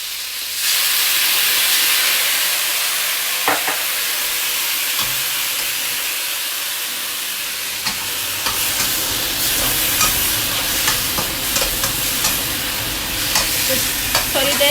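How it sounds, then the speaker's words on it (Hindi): Soy sauce stir-frying in a hot pan for a Chinese-style home dish, giving a loud, steady sizzle and hiss with scattered utensil scrapes and clicks throughout, no voices. "थोड़ी देर के लिए फ्राई करें"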